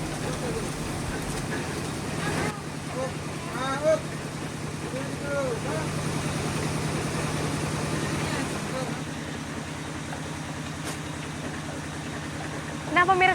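Old machines running in a palm sugar mill, a steady low mechanical hum and rumble with a voice talking over it for most of the stretch.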